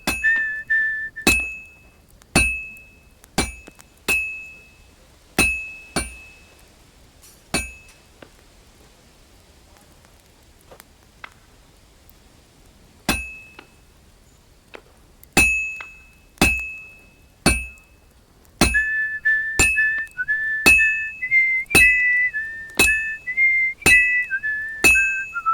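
Hammering hot metal at a smithy in Kingdom Come: Deliverance II: sharp, loud ringing strikes of a hammer on an anvil, landing in uneven clusters with pauses between, each clang decaying quickly, alongside a sustained whistling tone during several runs of blows.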